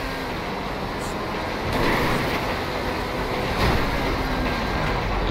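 A GTA Online train runs on without stopping, its steady rumble and rail clatter loud and close, swelling a little at moments.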